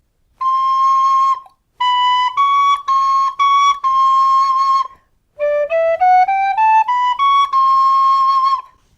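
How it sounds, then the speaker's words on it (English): A D tin whistle plays clear, bright, breathy notes including C natural, first a few sustained tones in short phrases, then a stepwise rising run of notes, close and solo. "to play C natural on a D whistle, you need to remove the top finger but leave the second and third on"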